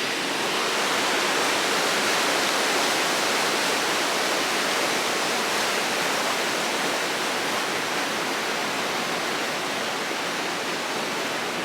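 A river rushes steadily in Glen Tilt, a loud, unbroken broadband roar of water close by, with no voices over it.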